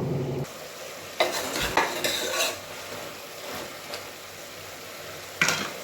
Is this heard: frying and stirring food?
yes